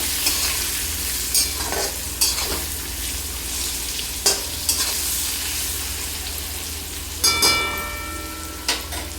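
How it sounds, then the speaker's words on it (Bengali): Rohu fish curry with salt and turmeric hisses steadily in a pan as a spoon stirs and scrapes at intervals, each stroke a brief clatter over the constant close sizzle. "আর নুনটা সবাই যে যার পরিমাণ অনুযায়ী দিবে দিয়ে একটু নাড়াচাড়া করে নেবো"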